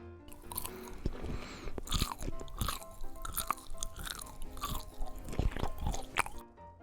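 A character in the MTA Warzone RP game eats an orange, producing a steady run of crunchy bites and wet chewing, close and fairly quiet, repeating irregularly for several seconds without speech.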